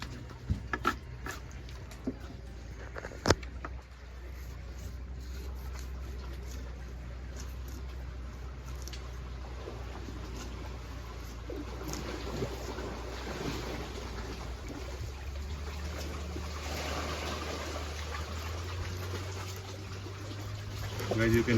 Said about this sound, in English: Guys, you can hear the waves of water in the background